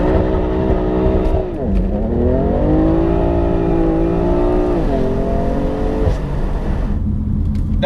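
A BMW M4 with the Dinan S2 upgrade accelerates hard, its engine note climbing steadily through the gears with brief dips at the shifts, loud and close throughout.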